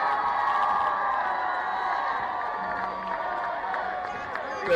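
Spectators at a college football game cheer and shout in a steady, broad roar, with scattered whoops and claps rising from the crowd throughout.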